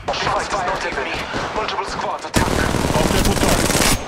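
A squad firefight in Apex Legends centered on Gibraltar: loud, sustained automatic gunfire with booming impacts and explosions, growing denser and heavier partway through, while game character voice lines come through over the shooting.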